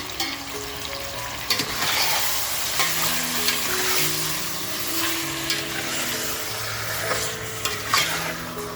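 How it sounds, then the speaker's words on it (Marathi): Mutton sautéing in a pan over a full gas flame: a steady, close sizzle with repeated scraping and stirring strokes of a spatula against the pan. "तर बघा मटण आपल्याला छान असं परतवून घ्यायचं आहे, जेणेकरून आहे ना मटण खमंग होईल."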